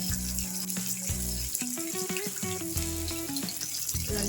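Cashews frying in hot oil for a mango rice tempering: a steady close sizzle and crackle runs throughout, layered with background tones and some clattering.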